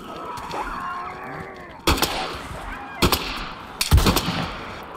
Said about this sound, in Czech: Teďka střílíme stejně.